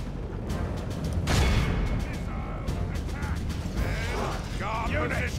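Musket volleys from massed units in a video game crack out as scattered sharp reports, with one heavier burst and clattering, ratchet-like mechanical noise over a steady background rumble.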